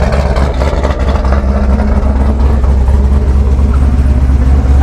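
A salvage car's engine, likely a flood- or damage-branded vehicle, runs steadily right after starting, a loud, continuous low rumble with a smooth idle throughout, no voices.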